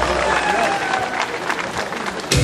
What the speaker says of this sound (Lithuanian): tau šiandien skamba patys audringiausi žiūrovų aplodismentai